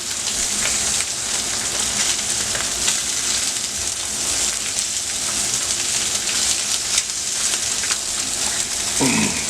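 Slices of Aldi luncheon meat fry in a pan with a loud, constant, close sizzle and crackle, steady like heavy rain, with an occasional small scrape near the end and no talking.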